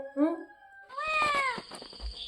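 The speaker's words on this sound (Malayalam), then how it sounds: "കുഞ്ഞുവാണെങ്കിൽ അമ്മയെ വരെ വിളിച്ചിട്ടാണ് കരയുന്നത്" A small kitten crying for its mother gives a short high meow, then a longer, louder plaintive cry, close by with a brief rustle after.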